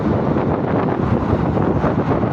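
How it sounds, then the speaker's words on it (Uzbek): Strong wind buffets the microphone in a continuous loud roar, with no voices over it. "Shamol."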